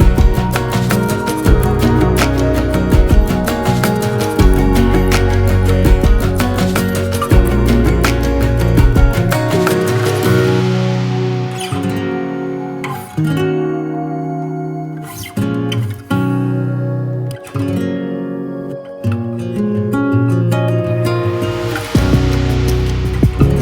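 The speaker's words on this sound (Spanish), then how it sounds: "Muy cerca del Salto Las Mellizas nos encontramos con la última cascada." Salto La Larga, a 64-metre waterfall near Trevelin in Chubut, Argentina, roars as a loud, continuous broadband rush of falling water, with music layered over it.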